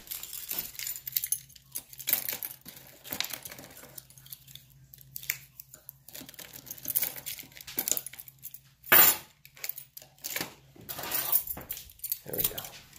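Keys jingle and clink in several short metallic bursts during an RV starter repair, with one louder jangle near the middle, scattered over quiet room noise and a faint low hum.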